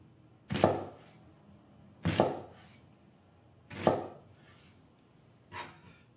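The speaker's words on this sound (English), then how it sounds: "So I'm just going to slice little bitty tiny, small as I can get," A knife cutting an onion into very small pieces on a board, four sharp, separate chops spaced about a second and a half apart, close and clear against near silence.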